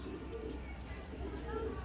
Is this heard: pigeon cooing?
yes